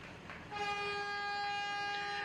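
Horn of Aceh's pioneer passenger train sounds one sustained, bright multi-tone blast from about half a second onward, steady and fairly faint over low rail rumble.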